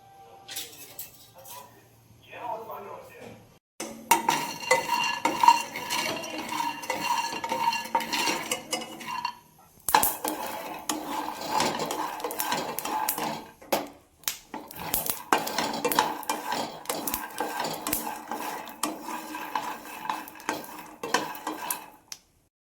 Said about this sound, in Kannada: ಇಲ್ಲಿ ಕಡಲೆ ಬೀಜ ಇದೆ ಇದನ್ನ ಹಾಕೊಂಡು ರೋಸ್ಟ್ ಮಾಡ್ಕೋಬೇಕು